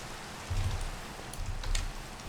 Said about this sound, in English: Oh, goodness. Rain.